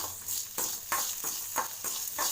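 Onions frying in a pan sizzle steadily while a spoon scrapes and stirs them in regular, close strokes about every third of a second.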